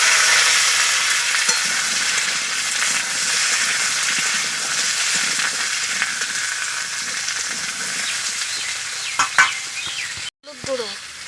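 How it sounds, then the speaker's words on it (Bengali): Cut potato and pumpkin chunks fry loudly in hot oil, a strong continuous sizzle with stirring scrapes and a few clatters near the end, with no talking. "এবার কেটে রাখা আলু কুমড়োটা ভেজে নেব"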